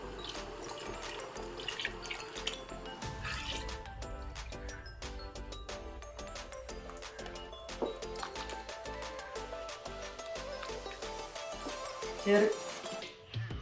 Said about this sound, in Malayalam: നമുക്കിനി 1ാം പാൽ അങ്ങോട്ട് ഒഴിക്കാം